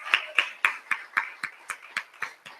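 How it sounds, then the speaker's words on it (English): Rhythmic clapping sounds at a community rally, about ten sharp, evenly spaced claps that fade slightly, close and clear with no crowd roar. "another round of applause for QANIE"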